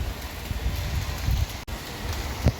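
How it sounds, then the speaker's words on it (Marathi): Steady monsoon rain pours in the Konkan outside a building, a dense, continuous hiss of drops with a few louder splashes near the end. "पाऊस, नुसता पाऊस."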